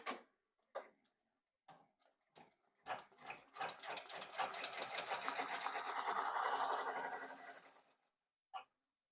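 An embroidery machine stitches a bean stitch outline around a buttonhole on an in-the-hoop pencil bag tag, starting with a few separate stops and starts before a rapid steady mechanical chatter builds, runs, then halts, with one last brief burst.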